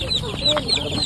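Spartan hybrid rooster clucking close by on a farm, with short repeated calls over outdoor background noise.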